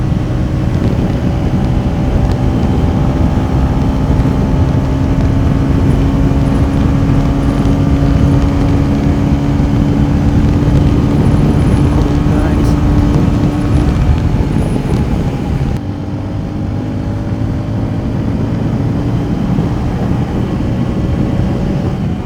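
A TVS Ronin 225 motorcycle carrying a pillion cruises in fourth gear, its engine a loud steady drone under heavy wind rush that climbs slowly in pitch, then dips briefly near the end.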